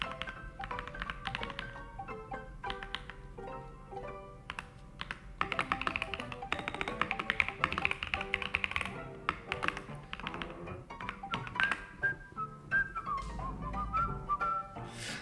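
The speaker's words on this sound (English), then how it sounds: "Oh, typing." Rapid keyboard typing patters along in irregular bursts while a whistled melody plays over it, the clicks close and steady through most of the stretch.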